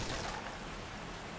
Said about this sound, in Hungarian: Esik a eső.